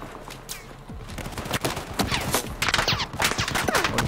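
Battlefield 4 video game gunfire: dense bursts of automatic and rapid shots crackle continuously and grow louder over the span, without talk.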